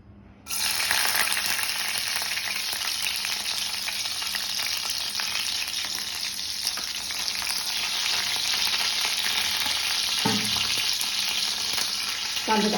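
Green chilies dropped into hot oil for a Malvani kulith pithi, crackling loudly and steadily up close after a brief silent start, with a soft clatter near the end and no voices.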